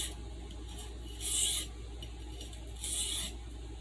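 A Stockman sheepsfoot knife blade being drawn across a sharpening stone to pull the burr over, giving two soft, raspy strokes about 1.5 seconds apart over a low steady hum.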